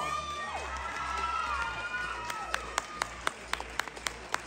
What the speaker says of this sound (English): Audience members, a round of applause